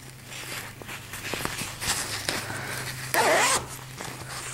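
A zipper pull on a wetbag being slid down during sewing: short scraping zips and rustles of fabric at close range, with one louder, longer zip near the end over faint background hum.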